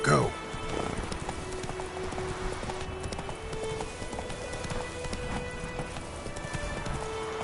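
Horse hooves clip-clop at a gallop in The Witcher 3, a rapid continuous patter under ambient game sound, with a voice spoken over the start.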